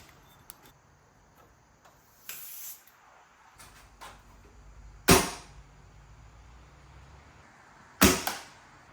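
Handlebar-mounted gadget on a rebuilt motorcycle fired off twice, each shot a sharp, loud snap a few seconds apart, with softer clicks and mechanical handling noises in between and no talking.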